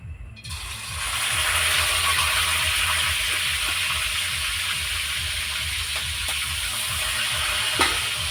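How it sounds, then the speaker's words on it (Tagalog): Steady, loud sizzling of pork frying in hot oil, a continuous crackling hiss with a low rhythmic mechanical hum underneath. "Prito muna natin bago natin i-lutuin ng pork steak"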